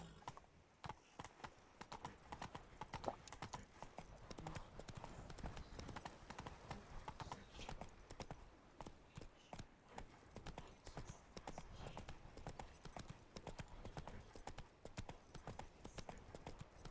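Horse hooves clip-clop steadily through the whole stretch as Roach, Geralt's mount in The Witcher 3, gallops over hilly terrain, with a brief whinny and a voice speaking over the rhythmic gait.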